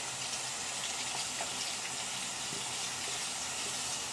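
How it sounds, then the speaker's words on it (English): Tap water runs in a steady hissing stream while a denture brush is rinsed, a continuous close, even gush with faint splashing and no pauses. "Now I'm going to sit them down real quick while I rinse off the brush"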